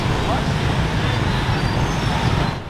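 Heavy street traffic in Ho Chi Minh City, where crowds of motorbikes fill the roads, makes a dense, loud, continuous roar of engines and road noise close by, without a break.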